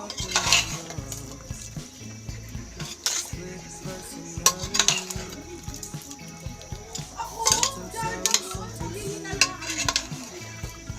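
Cassava being stirred in coconut milk in a pot, with repeated bubbling, spoon scrapes and metal clanks against the pot in uneven bursts over a low simmer, up close and without talk.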